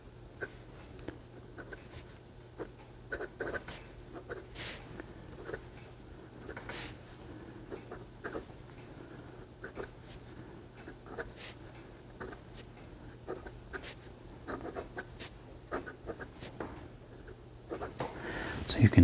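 A vintage Sheaffer White Dot Fashion II fountain pen scratches across paper in short irregular strokes, faint and close, with quiet talk over parts of it.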